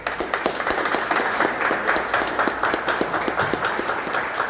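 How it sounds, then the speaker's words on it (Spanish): A conference audience claps steadily, a dense patter of many hands held at an even level throughout, with no voices over it. "les pido un fuerte aplauso, por favor"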